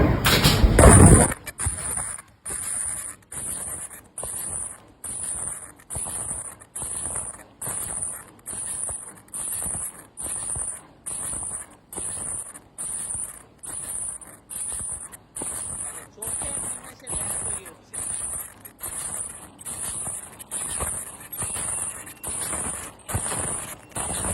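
A high-speed cloth bag making machine runs at about seventy bags a minute, pounding out a steady, fast mechanical cycle with a bright high whine, loud and close throughout after a brief initial burst.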